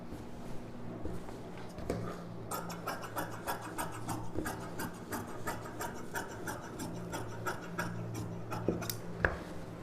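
Scissors cutting through the border of a silk saree for a puff sleeve blouse, a quiet series of rhythmic snipping and rasping strokes close by, with soft rustling of fabric between cuts.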